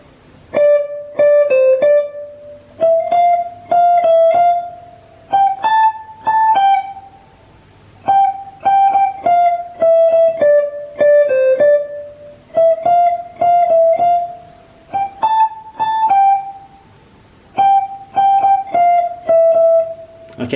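An electric guitar picks the riff from BTS's Pied Piper slowly and cleanly, single notes in short repeated phrases with brief pauses between them, close and clear with no other sounds.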